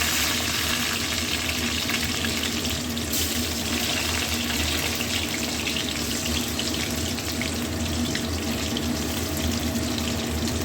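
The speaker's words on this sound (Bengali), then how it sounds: "এবার পটলগুলো এক এক করে সব ছেড়ে দেবো, দিয়ে ভালো করে ভেজে নেব" Slices of pointed gourd (potol) frying in hot oil in a home kitchen, giving a steady, dense sizzle and crackle that runs loud and unbroken throughout, with no talking.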